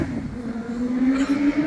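A Honda Fan motorcycle engine revs up, a steady droning tone rising slightly in pitch over under two seconds, close and loud.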